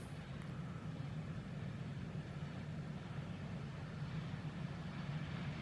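Low, steady engine rumble of a semi truck rolling by, continuous and fairly quiet, with no voices.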